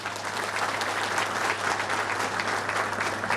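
An audience applauding during a political speech by Ganesh Naik on Navi Mumbai municipal affairs, dense sustained clapping from many hands filling the whole stretch at steady loudness.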